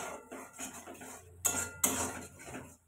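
Spices fried in oil with a metal utensil in a pan for a mushroom dish: chilli powder, Kashmiri chilli powder and green chillies. Repeated scraping and clinking strokes come up close, with two sharper bursts in the middle.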